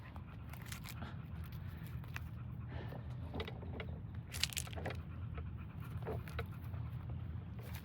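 A dog pants rapidly and steadily close to the microphone, a quiet rhythmic huffing over low background rumble, with a few faint clicks and mouth sounds.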